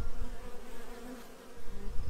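Honey bees buzzing at a hive in a bee yard, a steady, close, dense hum of many insects with no voices.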